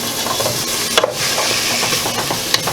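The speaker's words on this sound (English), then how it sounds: "Let that saute for a minute." Carrots and celery sautéing in a pan for split pea soup: a continuous, fairly loud frying hiss broken by a few stirring scrapes and taps.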